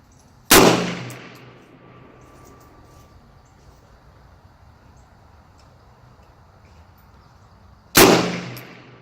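Two loud, sharp gunshots at an outdoor shooting range, about seven seconds apart, each with a long fading echo tail, over quiet ambient background.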